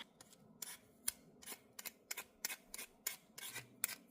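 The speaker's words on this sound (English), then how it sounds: "I'm going to start by peeling the potato." A potato is peeled in short, rhythmic scraping strokes, about nine or ten quick rasps over a quiet background, close and fairly soft.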